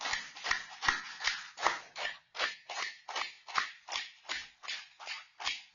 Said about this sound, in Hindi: ताली बजाओ, मस्ती से अभिनंदन करो।